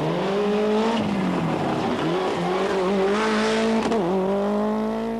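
A Ford rally car races at the 1993 Tour de Corse, its loud engine screaming close by and holding a high, steady pitch. The pitch dips briefly as the driver shifts or lifts, then climbs again, with no voices heard.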